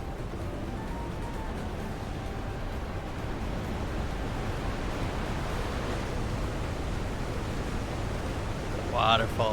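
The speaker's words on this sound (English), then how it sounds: "Waterfalls." Waterfalls along a river journey in Final Fantasy XIV Dawntrail, a steady broadband roar of rushing water holding at an even level throughout, with a brief voice near the end.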